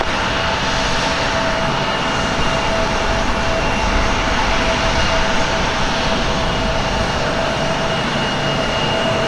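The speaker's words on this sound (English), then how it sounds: "Wait, is the A330 lining up for the south?" Airbus A330 airliner engines at Portland airport produce a steady, loud broadband roar with a faint whine layered through it. The sound stays constant and fills the whole stretch, with no voices over it.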